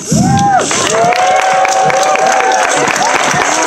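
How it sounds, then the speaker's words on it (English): A Democratic Party unity celebration crowd in Monterey County bursts into loud, sustained applause with cheers and whoops, a voice briefly rising over the dense clapping near the start. "You wait till you see this applause you're going to get"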